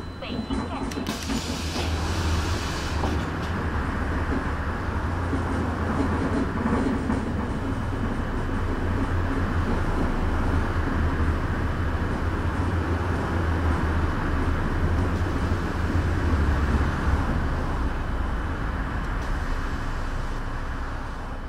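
A city bus on Beijing route 104 in OMSI 2 pulls away from a stop in afternoon rush hour, its engine a steady, close low drone that holds for the whole stretch, with a brief brighter hiss at the start.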